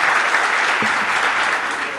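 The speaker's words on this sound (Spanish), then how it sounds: "un fuerte aplauso, muchas gracias a todos" Applause from a gathered crowd welcoming a solidarity train, a dense, steady wash of clapping held at full strength for about two seconds.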